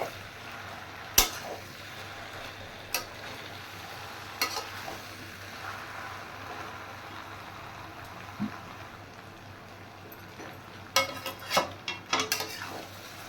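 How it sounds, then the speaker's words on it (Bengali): Jackfruit and mutton stir-fried together with fried potato in a pan, with a low, steady sizzle and occasional spoon scrapes and clinks against the metal, which gather into a quick run of strokes near the end. "এবার একসাথে পুরোটা ভালো করে কষিয়ে নেব আবার"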